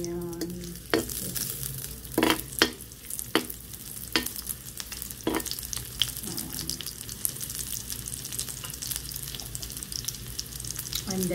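Onion sizzles in a frying pan for spicy sardines, a steady crackling fry with sharp stirring scrapes and clatters throughout, close up and with no talking.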